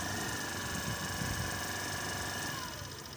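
A Hero Pleasure Plus scooter engine runs steadily with a refitted BS6 silencer, giving a continuous, even idle hum that stays close and consistent, tapering slightly at the end, with no talk.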